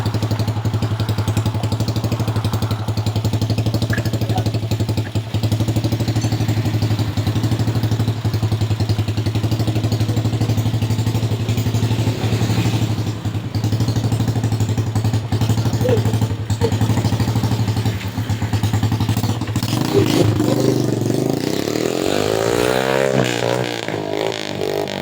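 A neglected trail motorcycle under repair runs steadily at close range, its loud, constant engine drone joined by light clatter and a shifting, rising tone toward the end.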